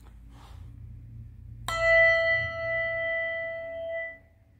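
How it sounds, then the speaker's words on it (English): One handbell from a handbell choir set is struck and rings out clearly, a bright metallic tone with shimmering overtones that sustains for a couple of seconds before being damped. "take one of your bells and just demonstrate how it's rung"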